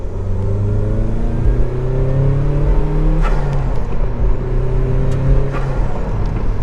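A turbocharged Mazdaspeed Miata engine drones steadily under acceleration in third gear, its pitch climbing through gears, heard from inside the car with no talk.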